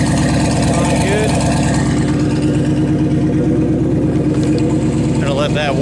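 A turbocharged 5.2-liter V8 in a Dodge Dakota idles steadily to warm up, a loud, close, continuous engine drone with a faint voice briefly over it near the end.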